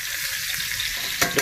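Blackened chicken searing in an iron skillet, giving off a dense, steady hiss of frying fat close up, with a couple of brief scrapes or pops near the end.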